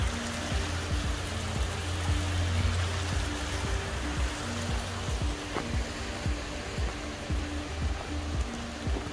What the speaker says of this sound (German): kommt da ein Bach aus dem Fels raus